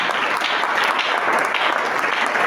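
A church congregation applauding together, a dense, steady wash of many hands clapping at once, loud and close, holding evenly without a break.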